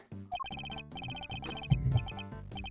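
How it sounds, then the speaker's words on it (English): A mobile phone ringtone plays a bright, repeating melodic pattern of short electronic tones in quick pulses, with a brief rumble of other sound near the end. "That's my phone going off, I'm sorry, Coco."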